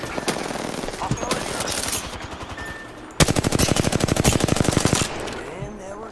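Gunfire in the Apex Legends game: scattered shots, then a loud, rapid sustained automatic burst lasting about two seconds, with voices in the background.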